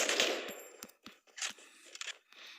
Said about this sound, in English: I'm getting shot from behind now.